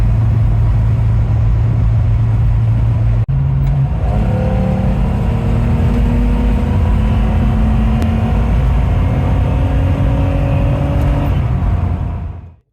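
A car out on a test drive after repairs for cooling problems and an engine stumble, its engine humming loud and close, with a gear change and then a steady rise in pitch as it accelerates before cutting off.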